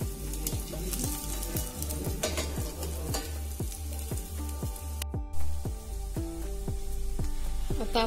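Alu vadi (colocasia rolls) shallow frying in a pan give a steady, close sizzle, with repeated soft scraping taps from a spatula stirring and turning them and a brief clatter partway through.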